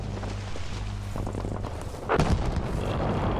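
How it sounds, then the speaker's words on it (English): Battlefield V combat: a heavy, booming explosion lands about two-thirds of the way through, its rumble ringing out over a constant low din of battlefield noise, with no voices. "The explosions are awesome."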